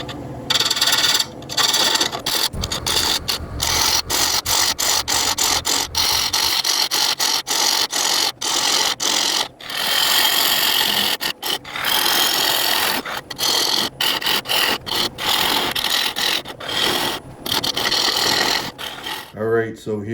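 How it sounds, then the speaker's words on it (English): Spindle gouge cutting away a tenon on dense, hard Kiawe wood spinning on a lathe at about 600 RPM, a loud continuous scraping rasp broken by frequent sharp ticks and dropouts, running steadily throughout. "I'm gonna try to cut off this tenon with my spindle gouge"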